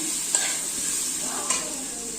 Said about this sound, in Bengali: এই যে এঁচড়টা আমি বললাম যে সিদ্ধ করে রেখেছিলাম লঙ্কা হলুদ আর নুন দিয়ে, এটা ঢেলে দিলাম ওর মধ্যে।